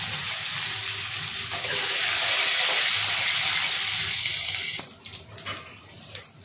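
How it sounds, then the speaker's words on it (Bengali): Pieces of pointed gourd (potol) hit hot oil in a pan and fry with a loud, steady sizzling hiss for several seconds, which then fades into softer crackles and a few utensil clinks. "এবারে এই সেম ওয়ে আমি পটলগুলোকেও ভাজবো। এবারে দিয়ে দিচ্ছি পটলগুলো।"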